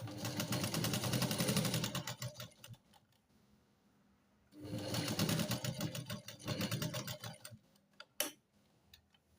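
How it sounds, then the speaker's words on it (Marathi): A sewing machine stitches a nightgown in two bursts of rapid, rhythmic needle clatter with a quiet pause between them, close and moderately loud, ending with a sharp click. "इथे मी शिलाई देऊन घेत आहे."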